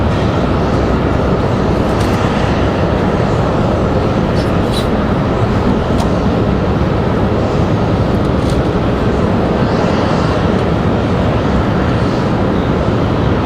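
An Air Canada Jazz Embraer E175 airliner at Raleigh-Durham International Airport produces a loud, continuous jet roar. The sound is dense and close and holds steady throughout, with a few faint higher whines.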